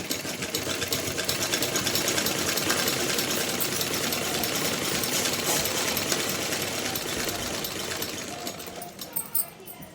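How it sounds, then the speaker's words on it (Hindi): A sewing machine stitches along folded strips of fabric for a small doll's dress, its motor running as a steady, continuous buzzing whir that carries on nearly throughout before stopping near the end. "सभी पट्टियों को फोल्ड करके किनारे से बराबर कर हम सिलाई लगा लेंगे"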